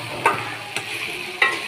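Chickpeas stirred and frying in a pan, a steady close sizzle broken by three sharp scrapes of the spoon against the metal.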